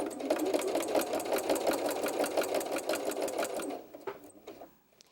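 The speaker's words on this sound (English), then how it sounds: "you're going to ease that binding around all of the curves until you're finished." A sewing machine stitching binding onto a baby bib runs in a fast, steady, close mechanical chatter for several seconds, then slows into a few separate clicks before stopping.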